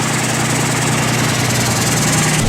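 A plastering and rendering spray machine for coating a building facade runs with a steady, loud engine drone and dense mechanical rumble, continuous and close, with no voices over it.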